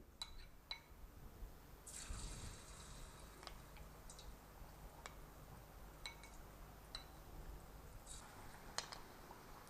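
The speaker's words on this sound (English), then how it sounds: "Now we will fry this coated paneer." Coated paneer pieces deep frying in hot oil, a soft, steady sizzle with scattered crisp pops and spits, fairly quiet and close, with no voices.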